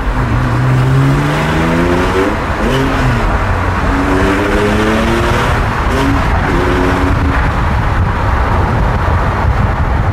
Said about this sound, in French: On va mettre un petit peu de pression dans le silencieux